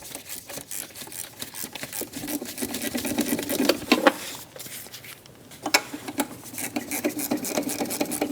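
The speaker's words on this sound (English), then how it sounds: "Using a 12mm socket, loosen the pinch nut for our idler pulley" Rapid metallic ratcheting of a 12mm socket wrench loosening the idler pulley pinch nut on a 2005-2009 Subaru Legacy engine, close and steady in dense clicking bursts with a short pause midway.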